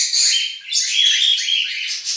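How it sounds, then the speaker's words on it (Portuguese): Pink Bourke's parakeet chirping in a continuous run of bright, high tweets at close range, with only brief gaps and no talking. "O periquito Burke, ó,"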